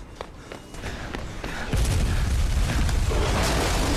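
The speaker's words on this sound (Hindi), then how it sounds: "आते साथ ही धमाका कर दिए" A heavy game explosion bursts in and leaves a dense, sustained roar of rumbling noise, loud and close.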